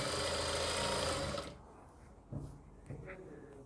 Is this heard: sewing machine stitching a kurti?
yes